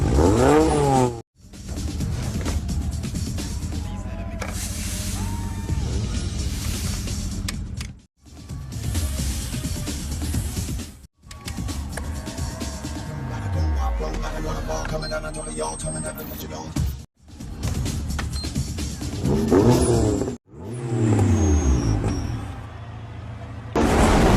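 In a street race scene from a Fast and Furious film, car engines rev and accelerate with rising roars and tire noise across several abrupt cuts, with voices and background music mixed in.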